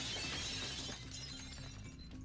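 One brittle glass-breaking burst from the Marvel Legendary video game, sharp crystalline fragments scattering and fading within a couple of seconds, soft in level with a low background tone beneath.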